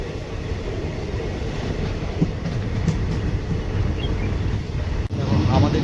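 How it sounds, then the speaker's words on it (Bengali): A passenger train rolls into Vandartikuri station with a loud, continuous rumble and rattle of wheels and cars, and a sharp high squeal near the end as it slows. "আমাদের ট্রেন কিন্তু এখন আসছে"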